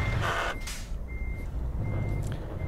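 A truck in the video game Euro Truck Simulator 2 sounds steady high reversing beeps while backing up, repeating in even pulses over a low engine rumble.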